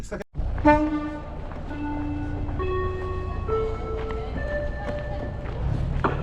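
A train pulling away sounds a loud, close multi-tone horn in several long blasts of shifting pitch, over the rumble of its departure, with faint people nearby.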